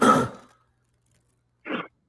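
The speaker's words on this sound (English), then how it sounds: "I wanted him to cough that out." A person coughs in short bursts: one strong cough at the start, then after a pause a second cough and the beginning of a third, close and clear with no talk.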